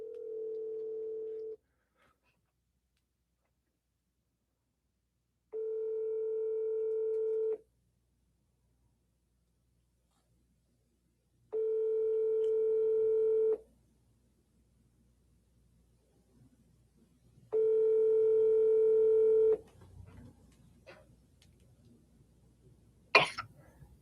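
Telephone dial tones for a cold call: four steady, loud tone bursts of about two seconds each, separated by silent gaps, followed by faint rustling and brief handling noise.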